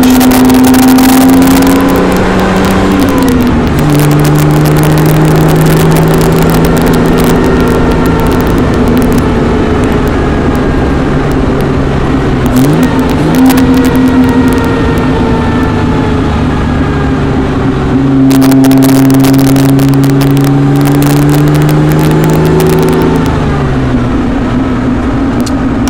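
A 1959 Austin-Healey 3000 engine drones loudly from inside the moving car, its revs climbing steadily and then dropping sharply at each gear change, repeated several times without a break.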